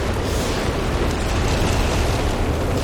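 A whiz-bang shell bursts in Company of Heroes 3, heard as a loud, dense, continuous roar of explosive rumble that fills the whole stretch without any talk.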